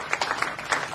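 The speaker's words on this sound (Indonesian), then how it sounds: "Oke, tepuk tangan teman-teman." A brief burst of applause, many hands clapping together in a dense, lively patter for about a second.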